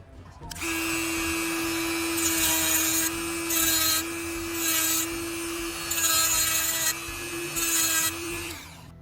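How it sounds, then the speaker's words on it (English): A power tool cuts a notch into wood for a guitar build, a steady motor whine with repeated louder bursts of rasping as the blade bites in, close and continuous with no talking. "I'm gonna start out cutting a notch there, mainly in the center, so it will be an arc"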